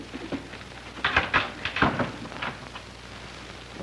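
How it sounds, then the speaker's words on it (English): In an old western film, a wooden door is swung shut and closed with a few close knocks and rattles, heard alone against a faint background hiss. "Close that door."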